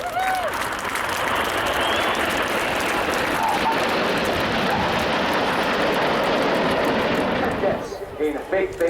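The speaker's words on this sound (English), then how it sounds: "Let's have a huge patriotic round of applause" Airshow crowd applauding at the Royal International Air Tattoo: a dense, steady wash of clapping lasting about seven and a half seconds, mixed with aircraft engine rumble, before it thins out near the end.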